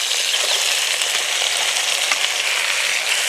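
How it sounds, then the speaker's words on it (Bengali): Loud, steady sizzle of pre-fried vegetables hitting hot oil in a pan with ridge gourd, a bright hissing crackle that runs without pause and no voices. "এবার ভেজে রাখা সব সবজি দিয়ে দেব।"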